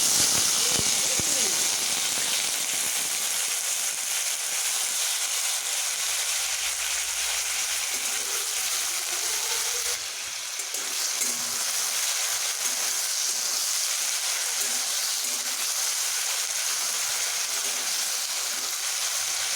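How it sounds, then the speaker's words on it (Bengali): Cut potatoes fry in hot oil in a kadai, giving a steady, broad sizzling hiss that runs throughout, with someone talking softly over it. "আলুগুলোকে আমি এইভাবে ভেজে নেব"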